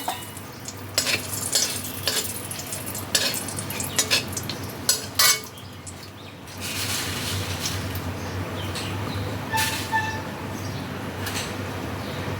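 Dried red chillies and bay leaves tempering in hot oil in a pan for lentils: crackling sizzle with sharp spatter pops and metal stirring scrapes in the first half, settling into a steadier fry.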